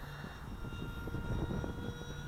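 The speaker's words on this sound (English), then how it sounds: "Obviously it's a high speed ducted fan" A model sport jet powered by a high-speed ducted fan makes a faint, distant, steady whooshing roar with a thin whine, alone with no talking.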